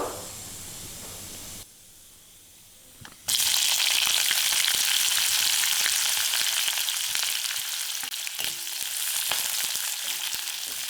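Thinly sliced onion dropped into hot oil for spinach rice, a loud continuous sizzle bursting in after a quieter pan hiss and holding steady with crackling pops.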